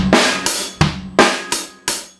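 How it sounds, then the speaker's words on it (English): A drum kit playing a slow bass, snare and hi-hat pattern: five well-spaced, loud, close hits, each ringing out and decaying before the next, played alone without talk. "you're actually going to be playing bass, snare, hi-hat, bass, snare, hi-hat, hi-hat"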